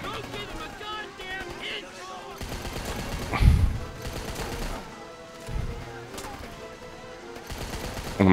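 Bursts of rapid gunfire from the Rambo video game, with sharp shots and a heavier blast midway, while someone talks over the action.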